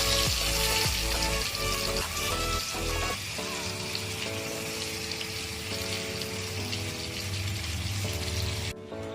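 Hot mustard oil bubbles and spits around fish in a pan, a dense, loud frying crackle that runs continuously up close, with a steady tonal hum underneath.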